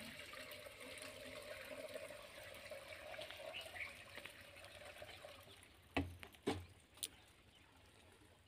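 Water from a farm pump runs steadily while it is being primed, a low, continuous gush heard alone and fairly faint, with a few sharp knocks and splashes near the end.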